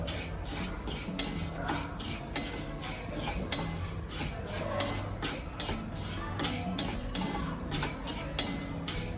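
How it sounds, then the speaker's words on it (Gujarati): Sesame seeds being dry-roasted and stirred in a pan for Jamnagar-style dry Gujarati kachori: a quick, rhythmic scraping and clicking of the spoon against the pan over a soft sizzle, close and continuous. "થોડાક શેકી રાખવાના થોડાક લાલ જેવા થઈ જાય ત્યાં લગી શેકવાના છે"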